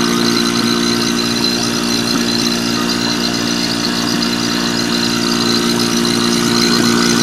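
A Marvac GA-271A vacuum pump motor runs steadily and loudly, close by, with a constant mechanical hum, a pulsing rhythm and a thin squeal throughout.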